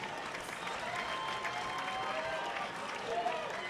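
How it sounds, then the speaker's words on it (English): A crowd at a professional middleweight boxing event applauds the two fighters, a faint, continuous wash of distant clapping and crowd noise with voices mixed in. "Round of applause for these two fighters."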